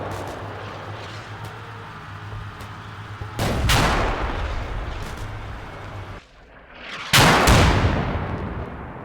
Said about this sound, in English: South Bridge where the mortars are now falling